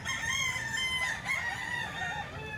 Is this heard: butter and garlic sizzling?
no